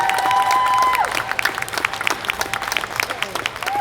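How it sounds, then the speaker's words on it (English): An audience at an anime convention panel breaks into applause for the guests, a dense crackle of many hands that starts strong and thins toward the end, with a brief tone and some cheering mixed in. "please join me in giving a huge round of applause to two very talented people from All the Anime"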